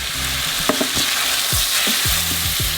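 Mushrooms and a small chili pepper sauté in a pan with a steady, loud sizzle, while a utensil taps and scrapes in quick bursts throughout.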